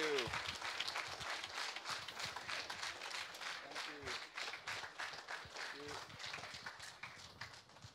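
Steady applause from an audience, dense clapping throughout that thins slightly near the end, with a few voices underneath.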